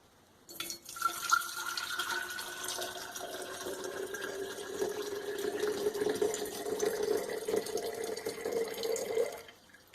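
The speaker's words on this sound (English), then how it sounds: "I'm just going to pour straight in like this" Liquid poured straight into a container without a funnel while making Halloween crystals, a steady trickling stream with a rising fill tone lasting several seconds, near and alone.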